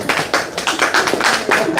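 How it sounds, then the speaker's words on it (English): A church congregation claps briefly to welcome the pastor, a quick run of close, loud, uneven claps with no talking. "Thank you for the clap"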